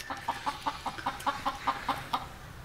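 Chickens in their outdoor run give a quick series of about ten short, close clucks in a fairly regular rhythm, with no talking.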